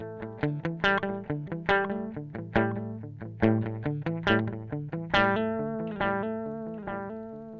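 A Sonicake guitar amp runs a digital delay under a steady run of picked electric guitar notes, each repeating cleanly and evenly in a bright, sustained, moderately loud passage with no voices.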